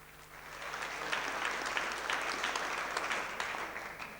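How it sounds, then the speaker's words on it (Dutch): Applause from a small audience at a local cable-network opening in Horst, a dense, steady patter of many hands clapping for about four seconds at moderate distance, swelling slightly then easing off, with no voices on top. "Oh, applaus."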